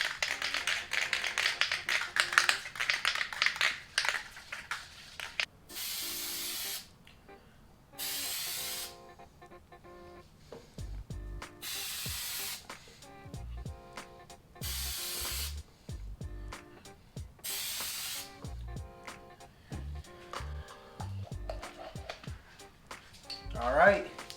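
Several short aerosol bursts of Plasti Dip spray a second coat onto a car emblem. The loud hissing blasts are separated by pauses, with a person talking and light tapping in between.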